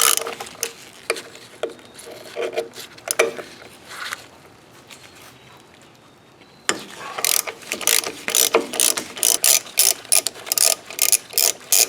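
A hand ratchet backs out the wheel cylinder bolts on a car drum brake, producing dense runs of close, crisp clicking strokes, quieter and scattered at first, then louder and steadily rhythmic.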